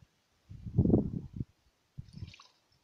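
Water poured through a funnel into an ordinary garden pump sprayer while mixing a tick treatment for a yard, heard as two short, close gurgling splashes separated by a pause in an otherwise quiet setting.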